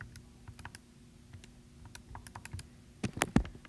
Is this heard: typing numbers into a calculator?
yes